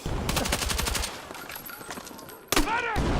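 Rapid bursts of automatic gunfire from Battlefield 6, several quick shots in tight succession early on, then a fainter stretch and a sharp louder burst near the end, with a voice talking over parts of it.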